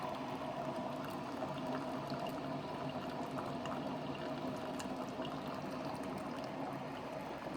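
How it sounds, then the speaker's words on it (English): A Keurig K-Duo coffee maker heats its water with a steady, loud rushing and bubbling hiss that holds even and unbroken throughout, with no voices. "This one's heating up its water now, so it kind of sounds kind of loud."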